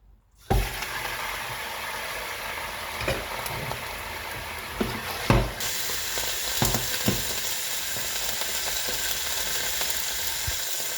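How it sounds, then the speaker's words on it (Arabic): Meat hits hot oil in a cooking pot with a sudden loud sizzle that keeps crackling steadily, broken by a few sharp clinks and stirring knocks. "نديرو فيها الزيت، نديرو فيها اللحم ديالنا"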